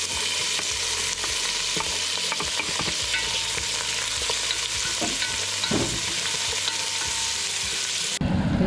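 Onion frying and being stirred in a hot pan while cooking beef kalderet, with a steady sizzle and repeated scraping stir strokes throughout, loud and close.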